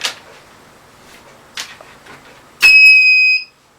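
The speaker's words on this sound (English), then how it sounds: "That beep is indicating that it has been powered on." Empire ESDVR2 H.264 security DVR giving a single clear electronic power-on beep, a bright sustained tone lasting under a second, preceded by a few faint soft clicks and handling noises.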